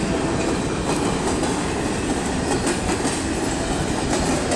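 Illinois Central freight train 1015 rolls through Effingham, Illinois, a loud, close, continuous roar of railcars with rhythmic wheel clatter and faint squeals, no voices over it.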